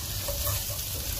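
Chili, dried shrimp and preserved radish stir-fried in a pan for pad Thai, a loud, close, steady sizzle with faint stirring underneath.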